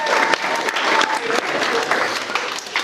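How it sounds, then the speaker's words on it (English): Wedding guests give a round of applause for the page boys and flower girls during the speeches, a steady, close burst of clapping from a crowd that fills the whole moment. "Can we have a quick round of applause for the stars of the today, the page boys and the flower girls"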